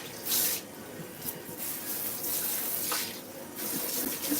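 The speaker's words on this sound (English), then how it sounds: "So I'm using lots of soap to clean out my sink." Water runs steadily from a faucet into a soapy sink being cleaned, a close, continuous splashing rush with small surges, no talk.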